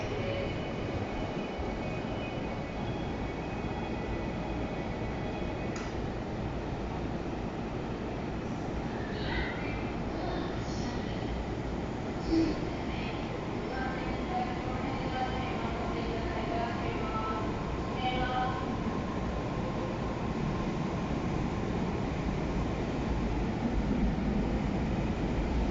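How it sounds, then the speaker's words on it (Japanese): A JR East train rolls through platform 3 at Funabashi Station on the Chuo-Sobu line, a steady close rumble and roar filling the whole stretch with little change in loudness. "まもなく3番線を列車が通過いたします"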